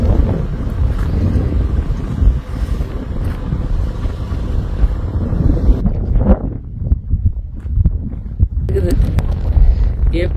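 Strong cold wind blowing outdoors in the hills, heavy rumbling buffeting against the microphone that surges and then drops into gusty patches, loud and close.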